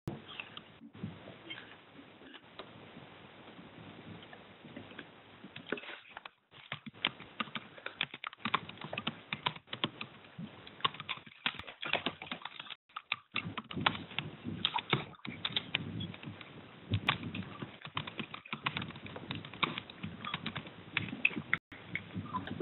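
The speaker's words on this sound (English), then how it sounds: "Somebody is typing." Steady keyboard typing clicks continue for a long stretch, close and fairly quiet, with a few brief pauses and no talking.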